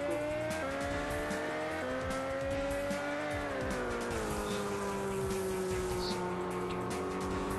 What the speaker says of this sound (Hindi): ये मोटरसाइकिल में क्या 200 की स्पीड नहीं भाग पाती है